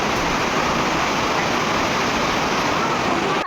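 Dense, steady roaring wash of noise like heavy rain driven by wind, loud and unbroken throughout.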